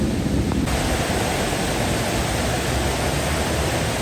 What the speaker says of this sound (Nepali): झरना छ है हाम्रो चाहिँ पार्किङभित्र पनि